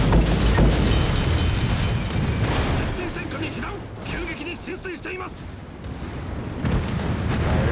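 Torpedo hits detonate against a warship in World of Warships, a heavy booming rumble with rolling low-end blasts and mechanical clatter, loud throughout with a dip mid-way before swelling again, voice faintly present.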